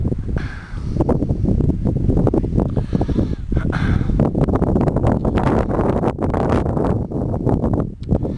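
Mountain wind buffeting the microphone outdoors above a waterfall in Sweden, a continuous rough low rumble with gusty surges and rustling, loud and close throughout.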